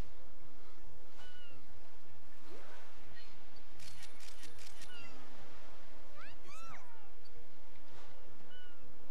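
A cat-like creature in New Pokémon Snap, on a beach on Copia, gives several mewing, meowing calls over steady wind and surf noise, moderately loud with no talk.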